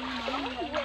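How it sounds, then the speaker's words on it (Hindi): Diesel is poured into the fuel tank of an engine used for irrigating a paddy field, a brief steady liquid gush and splash heard close up, with someone talking. "ये जा रहा है डीजल टैंक के अंदर"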